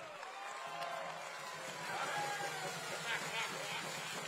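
A crowd at a political assembly in Ocosingo, Chiapas, applauds and cheers as a speaker arrives, a dense wash of clapping and shouts that continues steadily with a few whistles rising above it.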